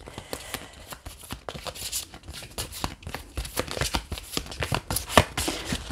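Tarot cards are shuffled by hand in a steady run of close, crisp riffling flutters, with a sharper snap near the end as a card drops out of the deck.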